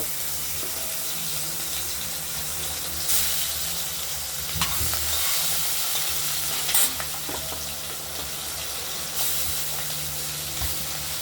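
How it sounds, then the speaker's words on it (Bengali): Pabda fish sizzle steadily in hot oil in a home kitchen pan, with occasional stirring scrapes and faint clinks over the constant crackle. "মাছটা ভাজা হোক"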